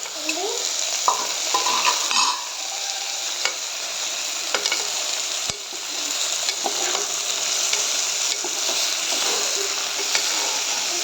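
Mutton head pieces, washed and coated in salt and turmeric, sizzle and fry in a pan with cooked onions, stirred steadily with a spoon; a continuous close frying hiss with scattered scrapes and light clinks, no talking.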